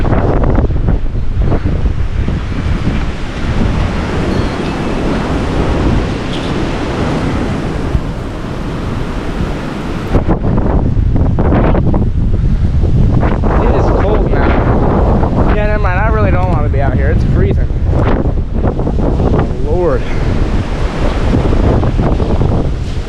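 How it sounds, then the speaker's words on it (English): Strong storm wind roars continuously into the microphone during an early-November windstorm, buffeting loudly with rushing gusts and no pause, while a voice speaks briefly beneath the din. "The gust front and the amount of rain."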